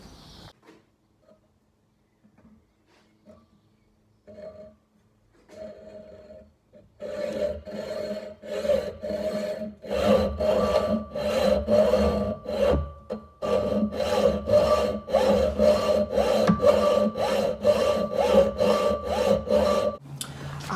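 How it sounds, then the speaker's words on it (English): A hand saw cuts through a copper bar clamped in a vise, with quiet handling before a steady run of rhythmic rasping strokes that grows louder and denser toward the end. "Got the saw ready, got my copper in the vise."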